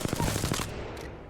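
Automatic weapon fire in the video game Apex Legends comes as a rapid string of close, loud shots lasting under a second, followed by a brief fading tail.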